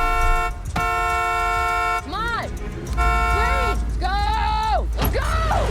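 Car horns honk in a traffic scene from a TV show. Long steady horn tones alternate with wavering, siren-like hoots over a low rumble of engines, all loud and close.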